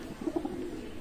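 Short, low cooing from a Teddy pigeon, a few soft rolling coos close by over a faint steady background hum, with no voices.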